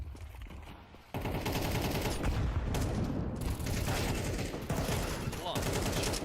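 Dense rapid gunfire from a Counter-Strike match rattles out in loud, sustained bursts after a brief quieter opening, with a commentator's voice faintly mixed underneath.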